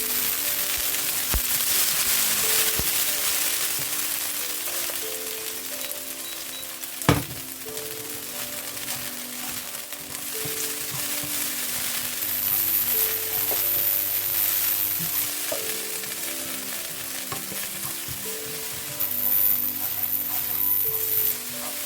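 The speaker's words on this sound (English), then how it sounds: "So get your onions in there. I've turned up the heat." Onions and cheese fry over turned-up heat in a pan for a Chinese-style beef curry, a steady loud sizzle running throughout with a sharp clink partway and occasional stirring.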